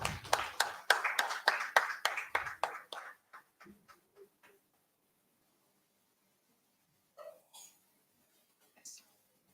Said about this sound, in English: Round of applause, please, for our panelists here.